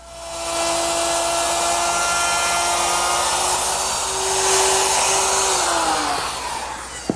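A power tool cuts a dado for a middle shelf in the wood of an armoire entertainment center, a loud steady motor whine running for several seconds before winding down.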